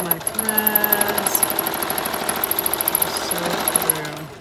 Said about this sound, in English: Have it very close to my sewing machine, so I'm ready to go.